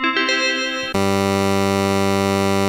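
A bright, buzzy synthesizer tone plays a few short notes, then sustains a rich, thick chord with two doubled, slightly detuned oscillators blending together with a faint swirl.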